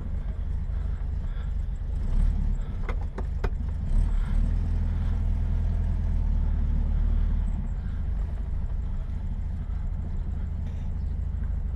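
A 1967 Volkswagen Beetle towing a small buggy trailer gives off a steady, close, low engine rumble that continues throughout, with a few faint clicks early on and no talking.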